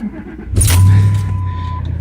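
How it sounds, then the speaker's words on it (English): A starter grinds briefly, then a truck's Volvo VP15 engine catches and settles into a deep, steady idle close by. "Start the truck up, show how this thing starts"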